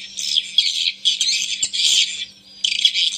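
Played-back recording of a swiftlet (walet) colony roosting call: dense bursts of high, rapid chirping twitters repeating with short gaps, clear and fairly loud with no speech.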